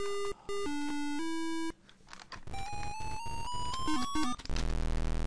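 An Atari 2600 game, Gefährliche Mäusejagd from 1983, starts up with a run of steady electronic beeps, then a rising sequence of square-wave tones, and ends in a loud burst of buzzing noise. The sounds are up close, with no voices.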